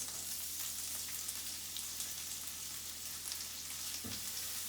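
Minced shallots frying in butter in a pan give a soft, steady sizzle with light crackle throughout, faint and close, with a small stir-like bump near the end.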